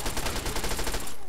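Rapid automatic gunfire from an assault rifle in Fallout 3, a dense loud burst of shots in steady rhythm that stops abruptly near the end, leaving a brief ringing tail.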